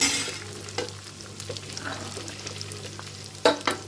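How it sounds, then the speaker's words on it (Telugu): Cauliflower and carrot frying in a pan give a steady low sizzle, with a few louder clanks of stirring near the start and again toward the end. "కాలీఫ్లవరు క్యారెట్ వేసేసి వేయించుకోవాలి."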